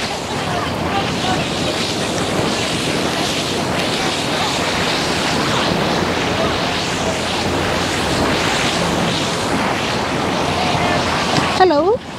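Steady roar of surf at a beach in Barbados, continuous broadband wash of breaking waves filling the whole stretch, loud and close, with a brief rustle near the end.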